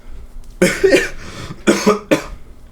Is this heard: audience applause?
no